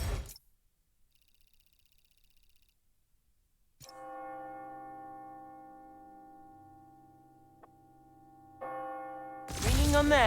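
Bells ringing on the hour in the video game Spider-Man: Miles Morales strike and ring out with a long, sustained resonant hum, struck again later, in a quiet setting with a faint chime early on.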